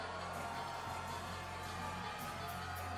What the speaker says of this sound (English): you just hear that crowd in the background